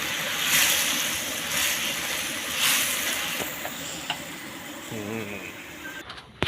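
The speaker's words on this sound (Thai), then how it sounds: "ผัดไฟแรงเดือดขนาดนี้เลย" Stir-fry cooking over high heat with shellfish, seasoning and dried chilies: a steady, loud, close sizzling hiss that runs throughout, with a few light utensil knocks toward the end.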